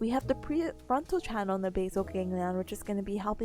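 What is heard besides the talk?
No everyday noises stand out.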